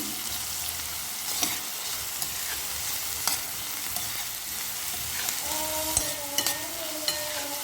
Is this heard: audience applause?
no